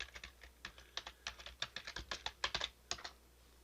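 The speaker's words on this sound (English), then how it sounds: "So I'm going to just type that in here now." Typing on a computer keyboard, a quick uneven run of close, crisp key clicks with brief pauses, heard alone in a quiet room.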